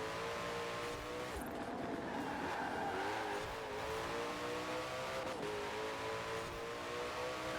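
Race cars in Forza Horizon 4 roar through a racing circuit, engines droning steadily at high revs with shifting pitch as they hold the road, loud and continuous throughout.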